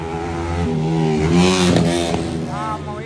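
A racing motorcycle revs and accelerates during a race qualification round, its engine pitch rising and falling in sweeping whines over constant loud roaring background noise, with voices faintly mixed in.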